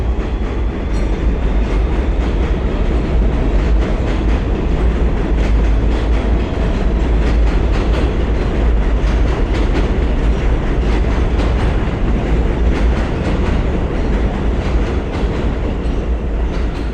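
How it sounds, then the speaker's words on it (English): A train rumbles loudly past the Avenue I station on McDonald Avenue in Brooklyn, a continuous close roar with a rattling clatter of wheels that holds steady throughout. "This is the Avenue I train station, and this is Avenue I."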